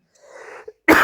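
A single short, forceful cough from a sick person with fever and a cold, close and abrupt after a brief breathy lead-in, in a quiet indoor room.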